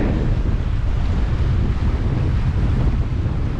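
Strong wind at sea, around 23 knots, buffets loudly and continuously on a sailing boat, with a low rushing roar like open water, no voices.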